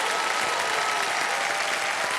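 A studio audience on the quiz show Kaun Banega Crorepati season 15 breaks into dense, steady applause, loud and sustained throughout without a pause.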